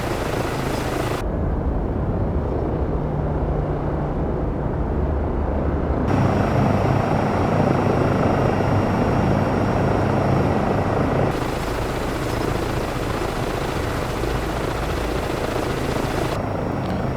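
Steady, loud simulated rotor and turbine drone of an EC135 helicopter in flight within a flight simulator game, continuous throughout with slight shifts in tone as the sound changes partway through.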